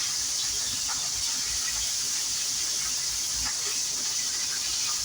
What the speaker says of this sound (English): So I drop my shrimp in here.